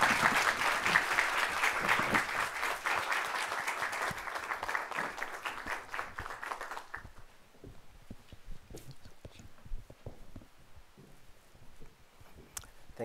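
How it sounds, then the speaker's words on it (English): Audience applause welcoming the main speaker at a book reading by Sequoia Nagamatsu at the Northfield Public Library, a steady moderately loud clapping that stops abruptly about halfway, leaving a quiet room with scattered faint knocks and shuffles. "let us all have a big applause to welcome our main speaker of this evening, Professor Sequoia Nagamatsu"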